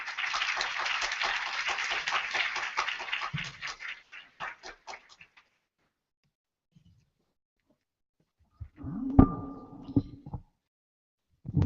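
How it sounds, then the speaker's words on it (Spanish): Warm audience applause for a speaker at an academic talk on repatriation and family separation: full, dense clapping that thins and fades out over several seconds, followed by quiet and then a voice beginning to speak. "Les pido, por favor, le brindemos un fuerte aplauso,"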